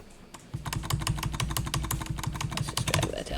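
Someone types an email on a computer keyboard in the Outlook email client, a quick steady run of close, crisp key clicks that starts after a short quiet moment and continues without pause.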